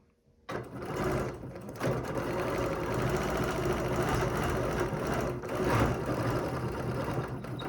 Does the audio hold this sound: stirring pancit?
no